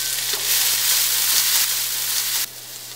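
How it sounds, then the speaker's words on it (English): Onions and green chilies fry in a pan with a loud, steady sizzle and hiss that holds constant, easing slightly quieter near the end, with no voices. "Now you have to cook the onions till you get a very good golden brown color."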